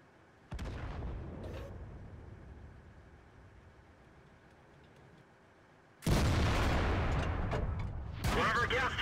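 Tank guns boom in a tank battle video game: one heavy shot, then a quieter stretch of rumbling, then two more loud blasts close together near the end, with the later reports loudest.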